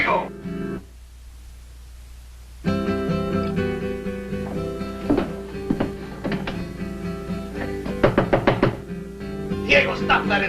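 Hard pounding knocks on a door, in uneven clustered bursts of heavy thumps, loud and close, with a shouting voice and background music around them.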